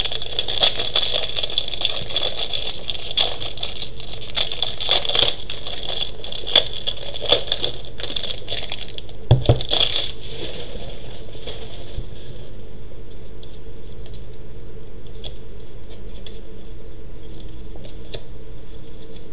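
Foil packets of Slam Attack trading cards being torn open close by, with steady crinkling and crackling wrapper noise that grows quieter and sparser after the first half.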